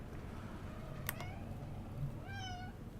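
A house cat gives a single short meow near the end, faint and rising and falling, over steady background hiss and low hum while a video game plays.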